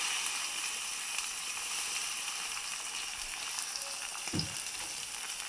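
Ingredients for gongura curry fry in a pan with a steady, soft hissing sizzle throughout, broken by one brief stirring thump near the end.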